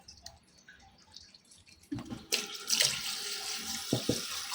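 Quiet handling clatter, then hot water from a tap starts pouring in a steady rush over a duck, with a couple of brief knocks near the end.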